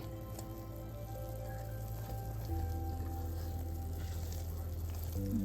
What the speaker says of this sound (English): a full rolling boil